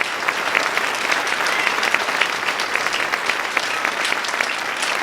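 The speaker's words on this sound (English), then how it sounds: "clap your hands, somebody." Steady, dense clapping from a church congregation fills the space, a continuous crackle of many hands at even loudness with no pauses or talk breaking through.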